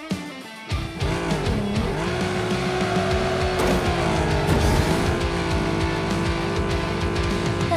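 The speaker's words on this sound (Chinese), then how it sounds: "此弯道弧度较大，让我们来试一下漂移过弯吧" A race car in the Ace Racer mobile game drifts through a wide corner, the engine whining and shifting pitch as the tires squeal in a long, steady skid, loud and close throughout.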